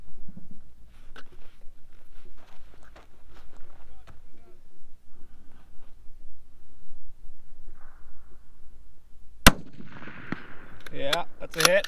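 A Remington 700 PCR rifle in 6.5 Creedmoor fires a single sharp, loud shot late on, followed by the ring of a steel target at distance, after a long stretch of quieter outdoor ambience with some talk.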